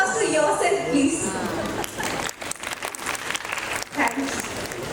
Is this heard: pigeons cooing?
no